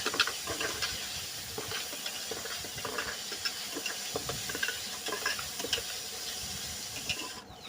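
Onions frying in a pan for a ridge gourd dal, a dense steady hiss with crackle running throughout, close and fairly loud, no voices.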